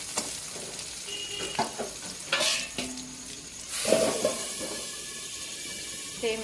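Potatoes fry with salt in a pan, giving a soft steady sizzle with intermittent scraping and stirring clatter, fairly quiet and close.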